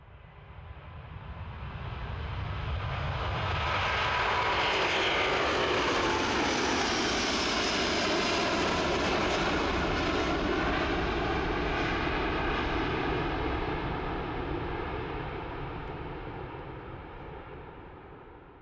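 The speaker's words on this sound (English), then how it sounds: "This Delta Airlines Airbus AE330-900 experienced a bird strike on the right engine just after takeoff." A Delta Airlines Airbus A330-900 jet takes off, its engine roar building from a distance to a loud, broad sustained rush that peaks mid-pass and slowly fades as the aircraft climbs away.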